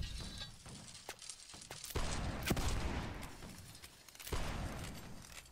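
Musket volleys crackle across a line battle in a redcoat-era multiplayer game, ragged bursts of many shots firing in quick succession with sharp cracks standing out, moderately distant and layered over a steady battlefield din.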